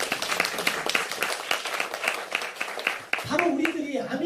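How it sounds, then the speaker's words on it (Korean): An audience at a company business presentation claps rhythmically for several seconds, then the applause gives way to someone speaking. "이 대목에서 박수 한번 쳐야 되는 거예요."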